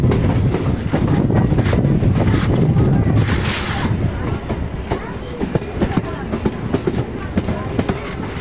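A MEMU passenger train pulls into Kiratpur Sahib railway station, a loud rumbling roar with wind buffeting the microphone that eases after a few seconds into clattering knocks and squeaks from the carriages.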